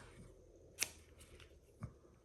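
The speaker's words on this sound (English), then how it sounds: "And then I can just take my scissors" Scissors trim the ends of a paper greeting card in two quick, quiet snips, close and alone in a silent room.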